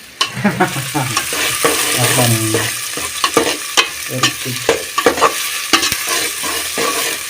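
Mutton head curry sizzles loudly in hot oil in a pan, a crackling hiss broken by repeated scraping stirs and clanks, with no talk.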